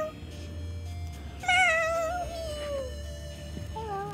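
Cartoon cat meowing in a hide and seek video game, one clear rising and falling meow up close, followed by a fainter second call over a low background hum.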